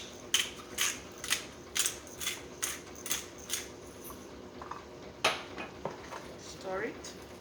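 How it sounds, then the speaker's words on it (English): A pot of Jamaican chicken feet soup seasoned with salt and black pepper is stirred steadily, a spoon knocking and scraping against the pot in a regular rhythm of clinks, close and moderately loud, with no talking. "I'm constantly stirring it."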